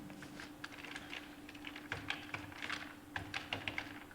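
Typing on a computer keyboard in Microsoft Word, a quiet, steady run of light key taps with irregular rhythm over a faint constant hum.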